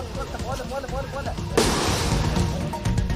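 Firecrackers set off to chase wild elephants from a village area in Wayanad, Kerala: a voice talks first, then a sudden loud burst breaks into a sustained crackling roar.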